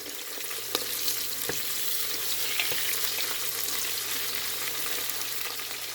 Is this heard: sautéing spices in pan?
yes